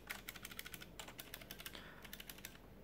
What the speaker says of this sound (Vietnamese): Gõ kêu cũng khá là to như các bạn đã nghe thấy.